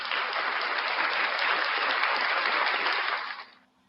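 Audience applause for producer Ray Ray at a live breakfast show, a dense, loud, steady burst of many hands clapping that swells briefly and then tapers off quickly near the end.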